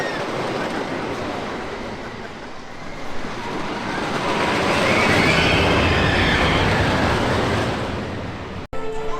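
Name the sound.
Troy wooden roller coaster train passing through station, Toverland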